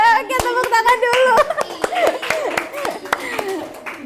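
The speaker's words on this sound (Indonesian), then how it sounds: "Oke, tepuk tangan dulu." A classroom group claps hands in a loose burst of scattered, uneven claps, with children talking and calling out over it throughout.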